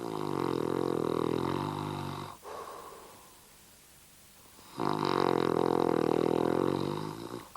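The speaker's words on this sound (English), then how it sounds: "snoring could wake the dead" Loud, deep snoring from a 53-year-old man, with two long rumbling breaths in separated by a quieter exhale, close up and with no one talking.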